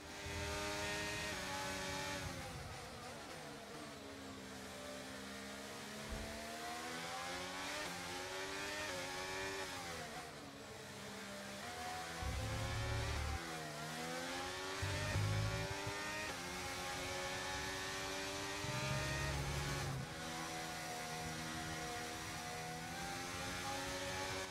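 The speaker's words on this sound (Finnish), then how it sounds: "Nyt tulee sitten autoja kyllä heittämällä ohi. Samalla suoralla jopa 4 autoa." Several Formula 1 race cars from the F1 23 video game scream past on a straight, their engine notes rising and falling in pitch as each one goes by, loud and continuous with no talk.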